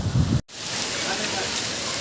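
Rain falls in a steady, dense hiss after a brief muffled sound and a momentary gap at the start, continuing evenly to the end.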